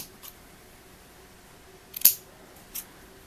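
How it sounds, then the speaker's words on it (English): Scissors snip out a small square of white material, giving one sharp, close cut with a few faint clicks around it in a quiet room. "I just cut out a little square"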